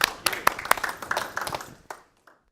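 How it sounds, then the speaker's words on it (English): Scattered, individual claps from a small audience at a technology meetup as a speaker is called up, sharp separate hand claps with voices murmuring underneath, thinning out and fading to quiet at the end. "let's give him a huge round of applause to get him up here"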